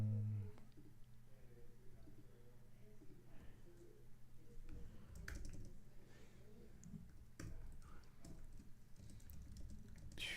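Keys clattering steadily on a computer keyboard while notes are typed during a stock-market live stream, a continuous run of soft, quick taps with a few louder strokes over a low background hum.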